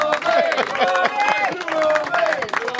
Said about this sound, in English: Our biggest capacity crowd ever, boys.